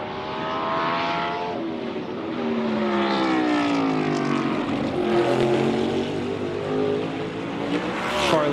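A 2025 NASCAR Cup Series race car on a qualifying lap, driven by Christopher Bell, accelerates hard with a loud, close engine whose pitch climbs, drops at gear shifts, then climbs again throughout, with no talking.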